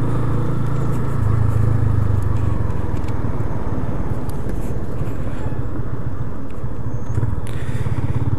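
A brand-new Yamaha Fazer 250 motorcycle rides over potholes, its engine droning steadily and loud up close, with road rumble and wind throughout and no talking.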